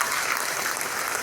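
Seminar audience clapping in a hall, a brief steady wash of applause, fairly quiet and continuous.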